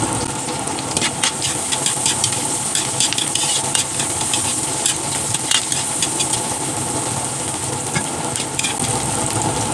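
Garlic and lemongrass sizzle in a pan while beef pares is cooked, a steady close frying hiss with scattered stirring scrapes and pops throughout.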